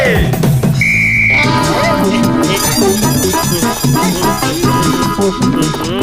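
A whistle is blown once to start a lemon-and-spoon race. The blast is short and shrill and cuts through busy, loud music that plays throughout.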